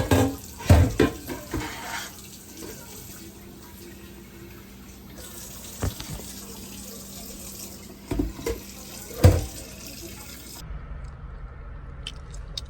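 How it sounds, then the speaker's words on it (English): Water runs steadily from a kitchen tap into a sink, a continuous close hiss with a few louder splashes and clunks, then stops near the end, leaving quiet background. "why you letting the water run?"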